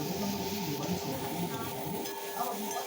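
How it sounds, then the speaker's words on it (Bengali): Sweets frying in a pan on a home kitchen stove give off a steady, close sizzle with a faint hum underneath, continuous throughout and with no talking. "সুইটসটা দিয়ে আমি ভালো করে ভেজে নিচ্ছি"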